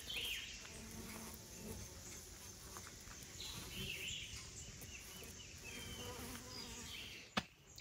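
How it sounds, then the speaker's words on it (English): Honeybees foraging on a flowering bloom hum in a steady, continuous outdoor drone, with a faint bird call and a sharp click near the end. "Honeybees are working it."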